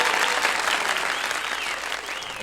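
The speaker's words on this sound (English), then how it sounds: "It's quite a vociferous round of applause you got there" A burst of enthusiastic applause from a crowd, dense and steady clapping that tapers slightly toward the end.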